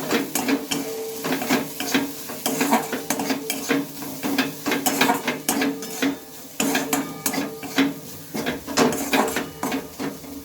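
Chili powder and turmeric fry in a pan for a cauliflower dish, as a spoon scrapes and stirs in a steady, close rhythm over a constant sizzle.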